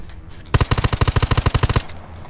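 Automatic weapon fire in the zombie PvP video game Undawn: one loud, close burst of about fourteen rapid, evenly spaced shots, with quiet before and after.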